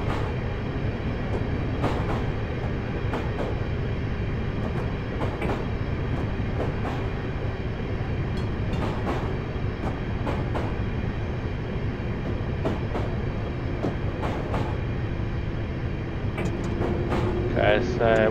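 A London Underground train in Train Simulator Classic runs steadily, a constant loud rumble of wheels and motors with rhythmic clicks over rail joints and a brief squeal near the end.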